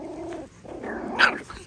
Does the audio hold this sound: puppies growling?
yes